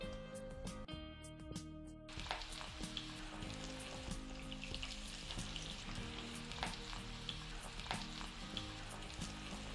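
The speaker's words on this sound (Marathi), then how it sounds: "हां, हे तेल छान तापलं. आता आपण ह्याच्यात तळून घेऊ." Soaked chana dal deep frying in hot oil, a steady dense sizzle and crackle that runs close and loud throughout, with occasional stirring clinks and no talking.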